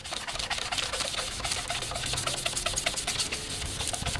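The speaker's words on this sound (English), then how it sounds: "you want to take the sanding block and you want to sand the UV ray deterioration off of this headlight" A sanding block rubs UV-damaged haze off a car headlight in quick, steady back-and-forth strokes, a soft raspy scrubbing close by with no talking.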